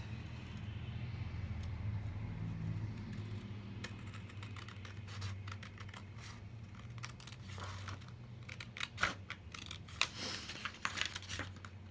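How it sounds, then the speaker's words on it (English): Scissors snip through paper to cut out a mini book cover for a teen craft kit, a run of small close clicks and crisp cuts that grow busier toward the end, with no talking. "I'm going to cut that one out"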